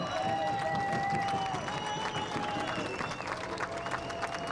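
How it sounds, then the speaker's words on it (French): A crowd at an evening car race applauds the winner, steady clapping mixed with cheering and crowd noise, heard at a moderate distance. "On applaudit le vainqueur, David Hébert."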